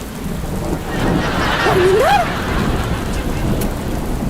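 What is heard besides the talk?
heavy rain and thunder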